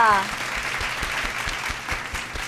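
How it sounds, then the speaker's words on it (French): An audience applauding Hortensia as she is welcomed to join a group: a short burst of steady clapping following a brief voice at the start. "On applaudit Hortensia"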